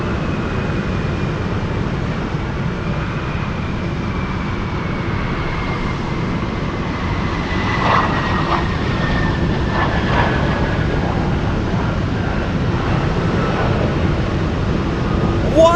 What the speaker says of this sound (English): We have an F-22 arriving in front of us at Ted Stevens.